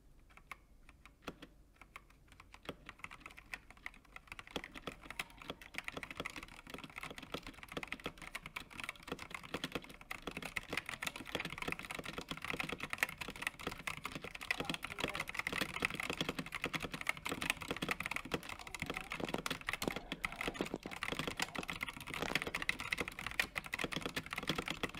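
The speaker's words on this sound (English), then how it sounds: "So here's a typing sound test, because while the keystrokes are smooth, obviously it still makes a sound when they bottom out." Continuous fast typing on a mechanical keyboard with iron springs, the keys clacking as they bottom out, a dense and steady patter close up with no talking.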